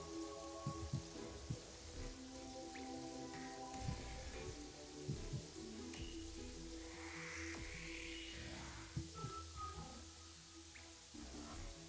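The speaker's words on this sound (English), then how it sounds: "it's raining right now" Steady rain falls in a broad, even hiss of drops throughout, quiet and continuous with occasional faint clicks and no talking.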